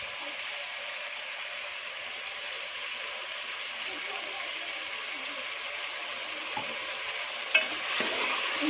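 Garlic and ginger frying in a karahi give a steady, dense sizzle at close range, with a few light utensil taps near the end.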